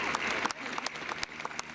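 Graduation audience at a high school ceremony breaking into steady applause, a dense patter of many hands clapping at moderate distance throughout.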